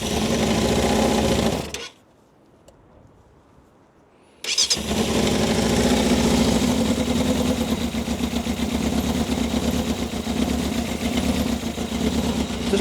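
A barn-find Yamaha FZR 600R motorcycle engine, missing its airbox, runs with a dense, buzzing idle. It cuts out for a few seconds, then fires up again and keeps running steadily and loudly.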